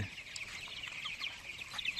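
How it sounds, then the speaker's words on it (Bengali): Tiger chickens let out to roam free outdoors on a winter day give a scatter of soft, short clucks and chirps, fairly close and steady over an open outdoor hush. "এই মুরগিগুলোকে ছেড়ে দিলাম বাইরে"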